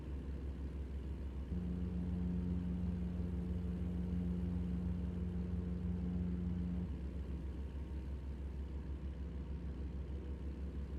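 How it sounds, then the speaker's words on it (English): A truck rumbles past on a road, a steady low engine drone with a sustained tonal hum through the middle, moderately distant and fairly quiet, with no talk. "Guessing a truck just went past"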